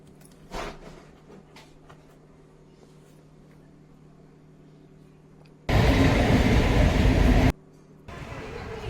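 Passenger train in motion, with a steady broadband rumble that swells loud for a couple of seconds and stays present near the end. Quieter ambient sounds and faint background voices come before it.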